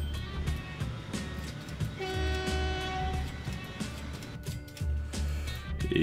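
Train from the simulation game Transport Fever, rumbling along with a sustained horn tone in the middle, steady and moderately loud throughout.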